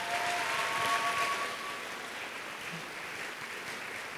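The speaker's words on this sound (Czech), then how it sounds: "takže môžeme privítať potleskom" An audience at a 2019 fashion designer gala applauds a welcomed guest, a full, steady wash of clapping that holds throughout with no talk over it.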